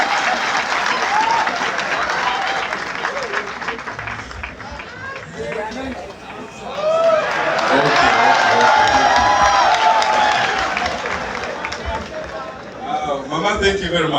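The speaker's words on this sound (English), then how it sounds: "A big hand to applaud their parents." Crowd at a school candidates' dedication ceremony at Kiira College Butiki applauding parents, sustained clapping with cheering and babble that swells loudly around the midpoint and then eases off.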